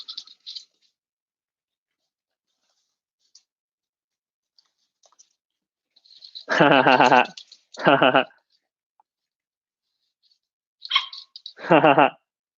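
A dog playing with a toy rabbit indoors, giving a few loud, close bursts of squeaky, bleating noise, likely from the toy, in two pairs separated by quiet gaps, with faint hissy sounds between.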